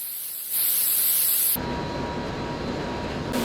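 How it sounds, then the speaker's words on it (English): A factory paint robot spraying base-coat paint onto a Bentley car body: a loud, hissing spray burst that then drops to a steadier, duller rush of air and spray, with no voices. "For a base color, the robot sprays 7 kilos of paint onto the body."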